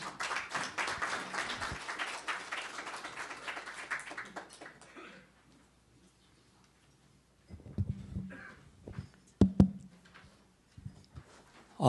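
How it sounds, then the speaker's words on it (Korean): Audience applause at a breakfast forum lecture fills the first few seconds then fades out, followed by quiet room sounds with a few footsteps and soft knocks. "큰 박수로 맞아주시기 바랍니다"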